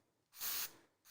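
A single short burst of hair spray hisses close by, steady and fairly loud for about a third of a second, then stops abruptly.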